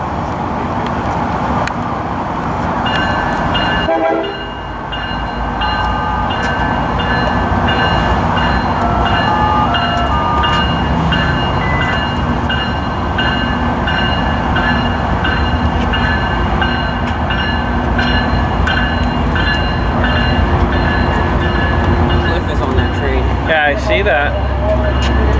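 A Tri-Rail commuter train departing Boca Raton crosses a bridge, a loud steady rumble and clatter of rail cars that runs on without a break, with a brief louder squeal near the end.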